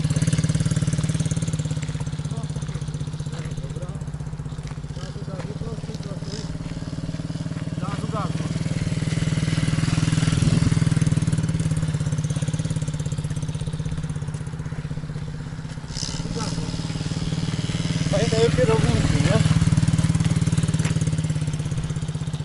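A small MRF pit bike ridden by a five-year-old drones steadily nearby, its engine swelling and easing in slow, long waves of throttle rather than sharp revs.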